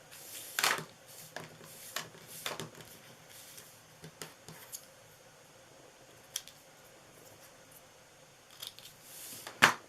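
Scissors cut paper for birthday treat bags, with a series of close, crisp snipping clicks spaced irregularly over a quiet background and occasional soft paper rustles.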